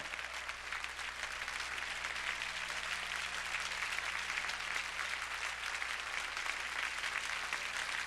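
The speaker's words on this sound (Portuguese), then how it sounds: "Vamos, continuem aplaudindo o Senhor" Church congregation applauding during a worship service, a continuous, fairly faint and even wash of many hands clapping at a distance, with no talking over it and a low steady hum underneath.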